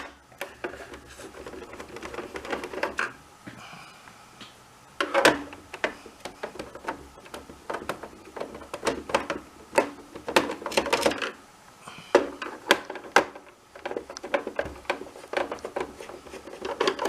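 Phillips screws being removed from a Nintendo NES console, with irregular clicks, scrapes and taps of the screwdriver and plastic case, close and fairly quiet, with brief pauses between bursts.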